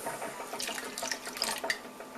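Water poured over chicken into a slow cooker, a soft continuous splashing trickle with small drips, close and fairly quiet with no talking.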